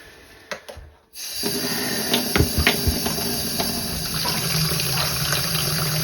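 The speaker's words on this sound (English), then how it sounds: "I think I'm going to be rinsing this for a little while." Tap water runs steadily over dyed yarn being rinsed in a sink, starting after a few handling knocks and continuing as a loud, close, unbroken gush with small splashes, no talk.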